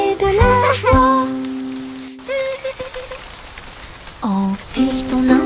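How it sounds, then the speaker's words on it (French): Raindrops patter in a children's song, mixed with bright synthesized musical notes and sliding tones that stop and restart. "Les gouttes de pluie tombent avec un bruit sourd."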